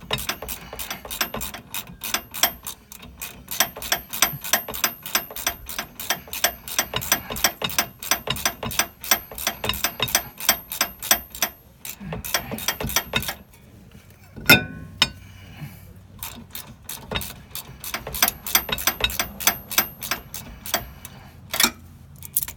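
A ratchet tightening brake rotor bolts on an ND Miata, rapid close clicking in long bursts, a brief pause with a metallic clink, then more quick clicking strokes.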